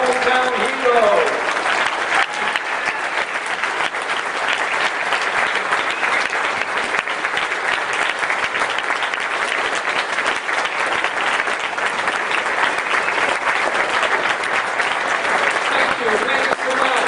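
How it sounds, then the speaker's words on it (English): Sustained, dense audience applause for hometown veterans at a community tribute event, steady and loud from start to finish with a crowd texture throughout. "one more rousing hand of applause for all of our hometown heroes"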